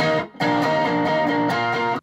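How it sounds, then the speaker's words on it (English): Electric guitar played through an amplifier's distortion channel, a thick sustained overdriven chord that rings steadily for about two seconds after a brief dip near the start, loud and alone. "All right, let's try some distortion."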